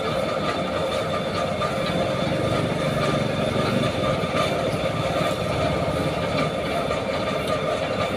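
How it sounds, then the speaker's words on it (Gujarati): A tractor loaded with onions rumbles past on a rural road, its engine drone and rattling load steady and loud throughout without pause. "આ ડુંગળીનું ટ્રેક્ટર મવાના હેડમાં જાય છે"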